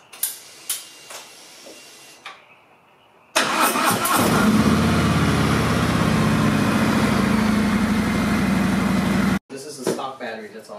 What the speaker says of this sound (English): we're going to start it up and see how quickly it turns this engine